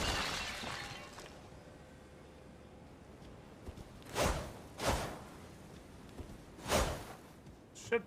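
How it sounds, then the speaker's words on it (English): Small breakable pots shatter in a video game, each one a bright crash with a sharp glassy ring. Three come close together, then a fourth briefly at the end, over a faint quiet background. "the small ones make big shattering noises"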